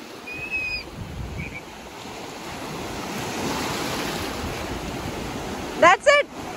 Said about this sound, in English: See, wave is coming, okay?